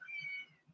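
A cat gives one short, faint meow nearby, followed by a few soft, low rustling sounds.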